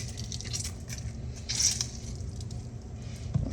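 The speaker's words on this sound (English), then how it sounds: "at this point, you could squeeze in the lemon" A lemon is squeezed by hand over a pot of guava jelly: soft, quiet wet squishing with a short juicy burst in the middle against low kitchen background noise.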